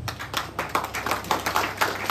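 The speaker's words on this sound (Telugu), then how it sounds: "ఒకసారి గట్టిగా క్లాప్ చేయవచ్చా?" An audience at a network-marketing event claps loudly together, a dense burst of rapid, overlapping hand claps that holds steady for about two seconds, close and without talk.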